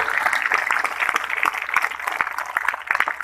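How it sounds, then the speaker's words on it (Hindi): A large open-air crowd at the Latiya Mahotsav festival in Bihar claps enthusiastically after a speech, giving dense, continuous applause with many overlapping claps that stay steady and loud throughout, with no voices standing out. "तो मैं चाहूंगा एक जोरदार ताली इस बातों के लिए।"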